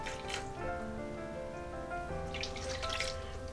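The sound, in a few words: water poured into pot of baked beans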